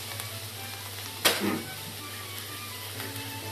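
Tofu, carrots, onion, bell pepper and zucchini stir-fried over high heat give a steady low sizzle, with one sharp scraping stir midway. No voices.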